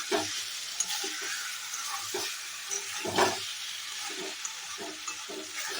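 Chicken sautés in a pan with a curd masala, a steady close sizzle and hiss under repeated scraping stir strokes and soft clinks, moderately loud and continuous.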